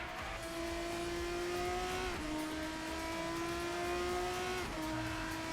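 An RSS F3 race car engine in Assetto Corsa screams at high revs under throttle, holding a steady tone with two quick pitch drops at gear shifts, loud and continuous with no talk.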